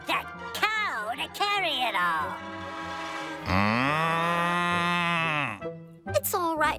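A cartoon cow lets out a long, drawn-out moo, loud and close, between animated character voices talking before and after.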